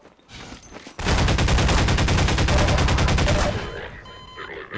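Shotgun fire in Half-Life 2: Lost Coast, a sudden loud, sustained barrage of rapid blasts lasting a few seconds, then fading into quieter game sounds.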